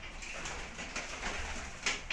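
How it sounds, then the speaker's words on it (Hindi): A pigeon coos softly near its nest of two chicks, low murmuring calls against a noisy background hiss, with no talk. "मेरे कबूतर के जो बच्चे हैं,"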